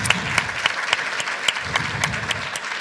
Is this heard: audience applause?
yes